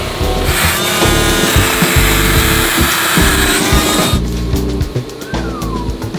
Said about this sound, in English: Now we're going to deburr the edges on the cylinder head.